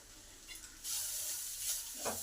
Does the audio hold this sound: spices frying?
yes